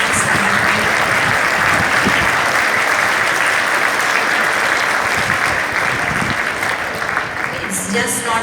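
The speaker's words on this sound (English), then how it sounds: "let us applaud for the wonderful assembly at 86 Standard" School assembly audience of boys applauding, dense loud clapping from a large crowd sustained throughout and thinning near the end.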